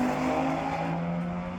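A GTI, a wagon and an Audi TT accelerating together in a drag race at Santa Pod, heard as a steady engine roar from a distance with a rising tone and no voices.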